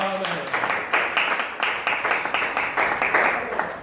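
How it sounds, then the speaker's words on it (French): Congregation applauding and cheering at a church service, rhythmic bursts of clapping repeating steadily with a voice underneath at the start. "Donnons une forte acclamation."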